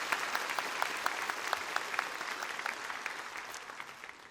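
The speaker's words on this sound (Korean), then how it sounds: "우리 수고한 청년들을 위해서 박수 한번 쳐주시기 바랍니다." A church congregation at a Sunday afternoon worship service claps together for the young members, steady dense applause with scattered sharp individual claps, moderately distant and continuous.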